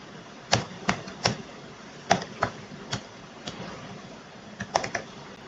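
Computer keyboard typing while entering HTML and CSS code, about a dozen sharp separate keystrokes with uneven gaps, some in quick pairs and triplets, fairly close with no voice.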